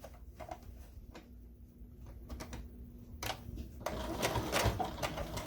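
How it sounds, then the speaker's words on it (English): A sewing machine stitches along the edge of a plastic bag holder casing in short bursts, faint and close, with soft handling noises between runs and a louder steady stitching run toward the end. "we are going to sew a line close to the edging all the way across"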